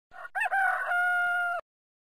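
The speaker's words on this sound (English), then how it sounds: "Rooster." A single rooster crows once, loud and clear, a rising then sustained cock-a-doodle-doo with nothing else around it.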